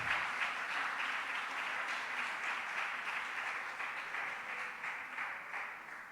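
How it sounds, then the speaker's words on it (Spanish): Congregation applauding during a church service, a sustained, even wash of many hands clapping at moderate distance, quiet and steady for the whole stretch. "Dele un aplauso al Señor en esta hora"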